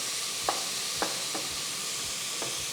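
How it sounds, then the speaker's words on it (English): Mushrooms and onions sizzling in a pan on the stove with a steady hiss of frying, punctuated by a handful of soft scraping stirs at irregular intervals. "I want to keep stirring over the stove because I'm smelling some really good smells going on over here"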